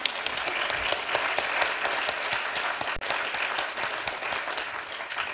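Evening forum audience at a breast cancer and environmental toxics event bursts into steady applause, dense clapping continuing throughout at moderate volume.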